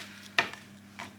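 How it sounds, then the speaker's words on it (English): A knife chops fresh rhubarb on a board: two crisp, separate cuts about half a second apart, close and fairly quiet, with a faint steady hum underneath. "I am just chopping up this rhubarb here"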